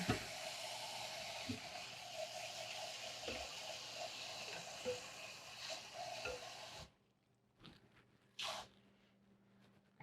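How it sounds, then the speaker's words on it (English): Cold tap water runs steadily over ramen noodles in a kitchen sink, a continuous splashing rush for about seven seconds, then cuts off, leaving near-quiet with a couple of brief clatters. "And then I'm going to run them underneath some"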